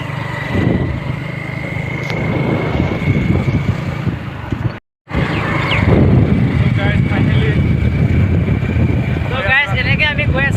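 A Hero Glamour motorcycle ridden on a long road trip, its steady engine hum mixed with strong wind buffeting the microphone, continuous apart from a brief dropout, with people talking over it throughout.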